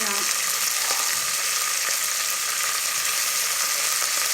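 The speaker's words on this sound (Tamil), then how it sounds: "எல்லாம் சேர்த்து நல்லா வதக்கிக்கலாம்." Onion, green chili and mint sauté in a pan for coconut milk rice, giving a steady, close, even sizzle with light stirring clicks and scrapes.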